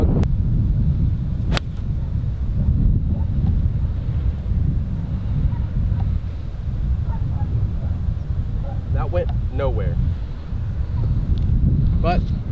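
Strong wind on a golf course rumbles constantly against the microphone, a loud and steady buffeting that runs the whole time, with a brief sharp tap and some faint talking partway through.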